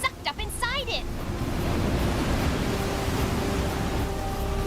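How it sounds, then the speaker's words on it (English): River water rushing and being sucked up into a magic crystal in an animated scene, a loud, steady roaring whoosh like surf, with brief tonal chirps at the start. "Look at all that water from the river being sucked up inside it."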